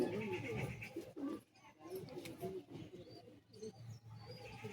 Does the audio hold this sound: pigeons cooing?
yes